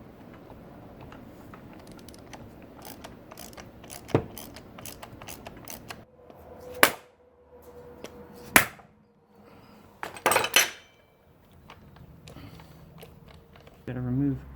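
Metal clanks, clicks and knocks sound up close as a transmission's shift linkage is pulled free, scattered sharp taps and rattles between quieter stretches, with someone talking at times.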